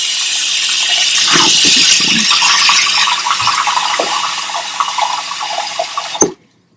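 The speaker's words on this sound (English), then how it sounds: "I'm going to turn on the water, so don't mind the water." Water runs steadily and loudly from a sink tap, a close, continuous hiss with small splashes and clatters, before it shuts off abruptly near the end.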